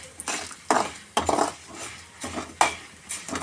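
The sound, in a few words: frying urad dal and lentils in a pan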